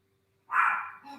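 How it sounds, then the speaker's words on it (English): A single short bark from a dog indoors, fairly near but not loud, followed by a softer yip or whimper, with silence before it. "I apologize for my dog."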